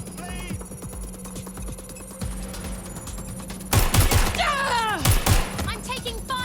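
Gunfire crackles in bursts in the open-world game Watch Dogs: Legion, starting midway as a loud close volley over ringing tones and game ambience, with a voice groaning.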